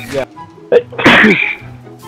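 A single sharp human sneeze bursts out loud and close in the middle, preceded by a short breathy intake, with casual voices speaking briefly before and after.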